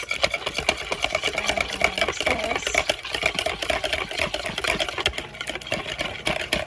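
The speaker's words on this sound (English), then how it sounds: "now my bread machine's going" Bread machine running in a home kitchen, a steady loud mechanical whirring and rattling hum that fills the whole stretch without pause.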